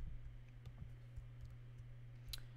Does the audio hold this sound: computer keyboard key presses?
yes